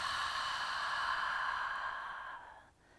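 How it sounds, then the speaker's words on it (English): A long, deep exhale flows out through an open mouth during prenatal yoga, a soft breathy rush heard up close that holds steady and then fades away near the end. "as you exhale, open your mouth and let the breath flow out"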